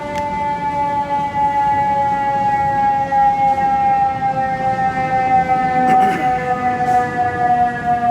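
A steady wailing siren sounds loud and continuous for several seconds, its sustained pitch drifting slightly downward, with a brief sharp knock near the end.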